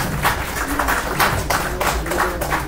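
Audience applause for sponsors at a hackathon grand finale in Bangalore, a steady wash of many hands clapping at close range with no clear break.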